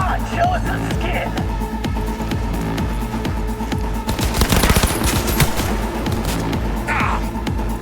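Heavy automatic gunfire in a Cyberpunk 2077 firefight, with rapid, sustained bursts of close shots that grow denser midway. Voices shout over the shooting.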